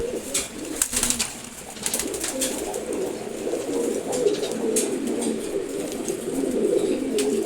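Male pigeons coo in a loft, giving low, repeated throaty coos close by that overlap continuously, with a few faint clicks and rustles in between.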